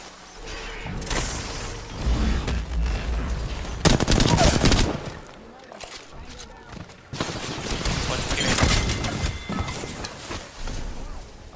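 Video game gunfire comes in loud bursts of rapid shots, with heavy volleys around the middle and again near the end, separated by quieter stretches of ambient game sound.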